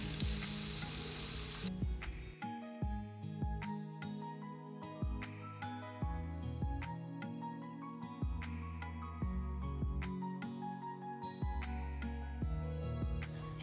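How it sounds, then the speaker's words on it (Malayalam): Kingfish frying in oil over a low flame for a Kannur-style fish biriyani, a steady close sizzle with repeated sharp clicks and scrapes of a utensil in the pan, no talk. "അപ്പോൾ ഇതാ ഓയിൽ ഒഴിച്ചിട്ട് ഈ മീനൊന്ന് ഫ്രൈ ചെയ്തെടുക്കാം."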